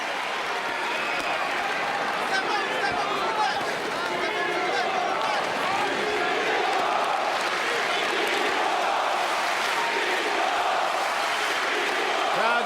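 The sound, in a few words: boxing crowd chanting Klitschko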